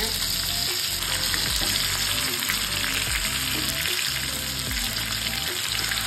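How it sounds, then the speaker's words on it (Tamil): Mango chutney sizzling and bubbling steadily on a medium flame as a spoon stirs it, a loud continuous hiss with rhythmic scraping strokes throughout, no talk. "இப்படியே பரட்டி போட்டு வேக வைக்கணுங்க"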